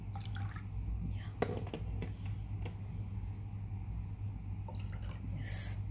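Water trickles and drips into a drinking glass being tuned as a glass xylophone, faint and close over a low steady hum, with a person talking quietly.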